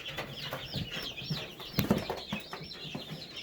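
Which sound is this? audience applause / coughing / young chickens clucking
young chickens clucking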